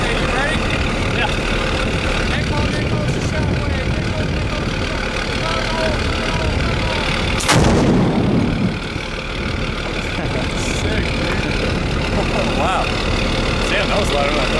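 An IED in Afghanistan is set off by a sharp pull on a firing cord, giving a single dull, distant boom midway through that rolls out over a steady engine rumble and ongoing voices.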